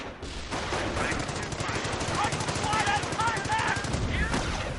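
Bursts of machine-gun fire in a strategy video game ring out continuously amid distant battle noise, with faint voices and whistling tones mixed underneath the steady crackle.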